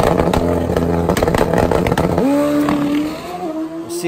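A turbocharged, nitrous-fed Suzuki Hayabusa drag racing motorcycle at a drag strip, loud and close, a harsh clattering engine that settles into a rising, sustained high-revving pull as it launches and accelerates.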